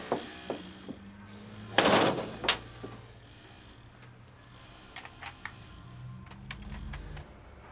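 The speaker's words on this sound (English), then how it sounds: "And shut the door." An indoor door swings shut in a TV drama scene, giving one fairly loud thud partway through, followed by scattered faint clicks and quiet room tone.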